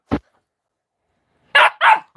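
A dog barks loudly and close by: one sharp bark, then a pause, then a quick pair of barks.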